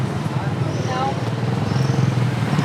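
Motorbikes idle and putter past market shops in Vietnam, a close, continuous engine drone mixed with street noise, while people talk over it.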